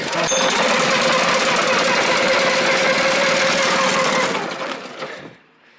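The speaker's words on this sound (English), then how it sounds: "It's got a Honda 160 engine on it, just a gas engine, starts right up, fires right up" A Honda 160 gas engine on new landscaping equipment runs loud and steady with a rapid, rattling chug, then cuts out abruptly near the end, leaving near silence.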